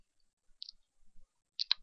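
Two or three sharp computer mouse clicks, quiet and close, separated by near silence, the last a quick double click.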